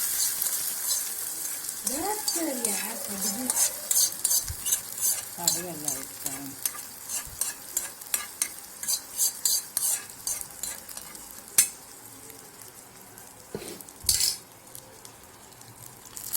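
Fried coconut stirred into white pumpkin pachadi for an Onam feast, giving a steady soft sizzle under repeated scraping and stirring strokes with spoon clinks against the pan, with a brief voice early on.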